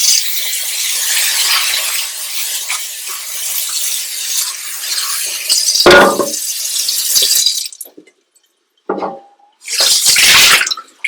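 A container rinsed under a running sink tap, with a steady close rush of water that splashes and shifts as the container is moved, then cuts off briefly and resumes in short bursts.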